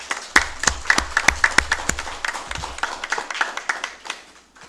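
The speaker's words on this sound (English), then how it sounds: "So a nice round of applause for them." Applause breaks out in a council chamber session, a roomful of people clapping with sharp irregular hand claps that build quickly and then thin out toward the end.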